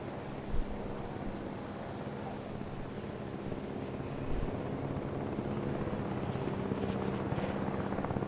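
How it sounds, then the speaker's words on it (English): A helicopter in the Jurassic World video game flies over an island park, a steady low rotor rumble with wind-like noise that builds slightly louder toward the end, with no talk. "looks like the helicopter's heading back"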